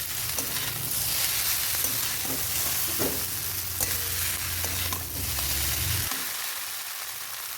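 Chow mein with coriander leaves is stirred in mustard oil in a pan, a close, loud sizzle with repeated scraping strokes that cuts off sharply near the end.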